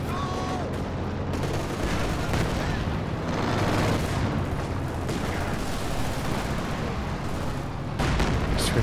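Sustained machine gun fire rattles through a Company of Heroes 2 battle, dense overlapping bursts mixed with heavier explosions and a constant roar of combat.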